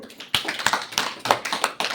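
An audience at a religious discourse claps in a short, loose burst of sharp individual claps, fairly close and fairly sparse, with no one speaking over it.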